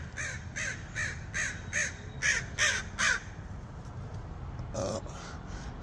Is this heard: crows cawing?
yes